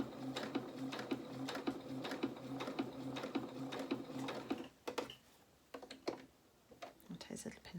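A domestic sewing machine stitches a fabric head wrap, running in quick rhythmic bursts with brief reversing stitches, then pausing; close and clear, with clicks and handling noises during the stops.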